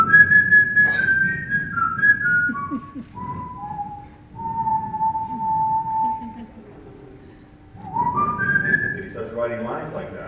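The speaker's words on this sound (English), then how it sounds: "Writing lines like that, whistling." A person whistles a melodic tune with sliding notes and a long held tone, over a low background rumble and some faint murmuring.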